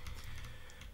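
Fast, light typing on a computer keyboard, a soft continuous patter of close key clicks at low volume with no talk.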